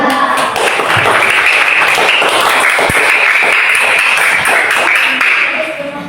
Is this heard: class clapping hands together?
yes